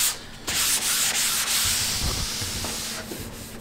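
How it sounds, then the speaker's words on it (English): An oiled wood finish is rubbed down by hand between coats, giving close, steady abrasive scrubbing strokes in repeated passes with brief pauses, with no talk. "I just rub the top down once the first coat is dry."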